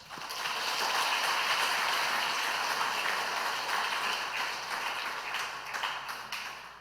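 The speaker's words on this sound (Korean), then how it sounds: "서로를 격려하는 마음으로 함께 박수했으면 좋겠습니다" A church congregation applauds together during a Sunday service, a dense, steady wash of clapping that fills the room and holds for several seconds before thinning slightly toward the end.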